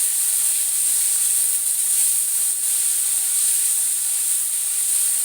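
Onions, green chillies and tomatoes fry in a pan for mushroom curry, giving a steady, high, hissing sizzle that stays even and continuous throughout.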